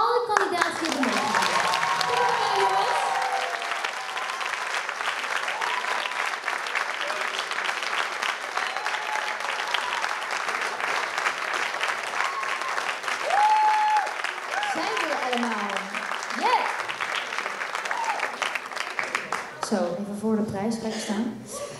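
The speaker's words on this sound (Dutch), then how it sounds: "Applaus voor alle kandidaten hier vandaag." Sustained crowd applause for all the contestants at a talent show finale, loud and continuous with whoops and cheers, and voices calling out over it at the start and end.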